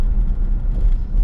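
An LT1 V8 idles after a cracked rear spark plug was replaced, giving a deep, steady low rumble heard from inside the car with a slightly uneven throb, and no talking.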